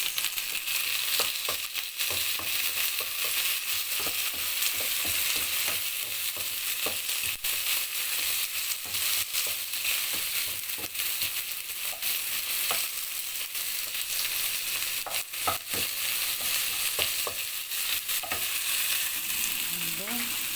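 Food with tomatoes sizzles steadily in a pan while being stirred, a continuous bright frying hiss broken by scraping and clacking stirring strokes throughout.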